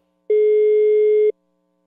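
A single steady electronic telephone ringback tone sounds once, a clean, loud, unbroken pure note of about a second, set against silence as a phone call connects.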